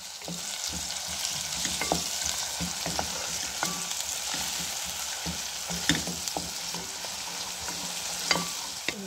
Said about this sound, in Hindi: 2 मिनट हमने भून लिया था अदरक लहसुन को भी